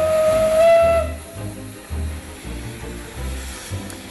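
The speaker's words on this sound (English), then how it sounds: "why not jump on a steam train?" A steam locomotive on the Isle of Man's narrow gauge railway gives one loud, sustained whistle lasting about a second, then steam hisses while the engine chuffs and rumbles in a rough, pulsing rhythm.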